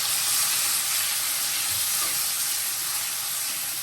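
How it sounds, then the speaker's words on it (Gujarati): Crushed garlic sautéing in hot oil while a Gujarati white pea curry is being cooked, giving a steady, loud broadband sizzle that runs unbroken and alone throughout. "હવે આપણે આના તેલમાં એકદમ સરસ સાંતળી દઈએ।"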